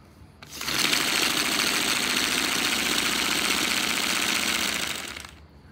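A turbocharged paper radial engine model runs steadily for about five seconds, a loud, dense buzzing rattle that starts abruptly and tapers off at the end.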